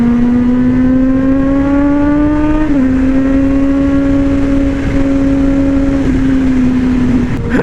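A Kawasaki Z H2 motorcycle engine holds a loud, steady high idle with a strong tonal drone, stepping slightly between rev levels, close up throughout with no talking.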